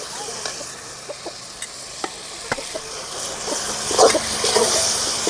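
Ground masala powder sizzles in hot oil for a banana leaf curry, a soft steady fry with scattered crackles and light stirring clicks, swelling a little louder toward the end.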